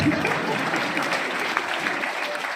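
An audience claps continuously in a dense, steady wash of applause, with faint voices mixed in underneath.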